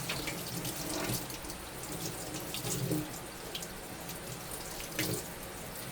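Warm water running steadily from a kitchen tap for bread dough, a continuous broadband hiss and splash with small shifts in the flow, close and fairly loud, with no talking.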